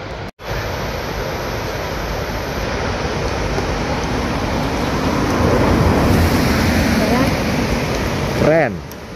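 Ocean waves at Yong'an beach, a broad continuous wash of surf with wind, swelling louder toward the end before a brief disturbance near the microphone.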